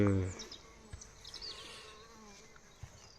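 Honeybee buzzing near two hives, faint and intermittent, with a loud low thump at the start and soft outdoor background.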